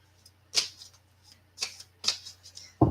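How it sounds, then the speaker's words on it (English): Angel number cards being shuffled in a few brisk, crisp bursts of riffling, close and fairly quiet, with gaps between and a low steady hum underneath. "Shuffle again."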